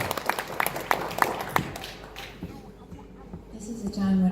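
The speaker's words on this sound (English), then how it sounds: "give them a round of applause" Scattered audience clapping for the band at a free brunch radio show pops in a brief uneven burst, thins out after a second or two, and gives way to quiet murmuring and a voice.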